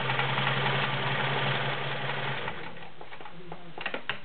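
A Kenmore 1341 convertible flat bed/free arm sewing machine stitching a multi-point zigzag, running in a steady close hum that stops partway, leaving a few light mechanical clicks.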